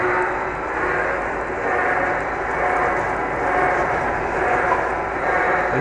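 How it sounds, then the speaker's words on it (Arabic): A honing brush machine works the cylinders of a Caterpillar 3208 engine block in a workshop, giving a steady, loud mechanical whir and grind with a slight rhythmic pulsing and no talk. "فرشة التنعيم للبلوكات"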